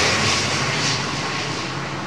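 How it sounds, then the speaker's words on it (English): A propeller airliner landing at Heathrow, its props in reverse pitch, gives a loud, steady roar that fades slightly over the short stretch, with no voices. "Watch the props go into reverse pitch."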